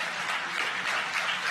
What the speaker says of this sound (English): you can probably hear the cheering behind me.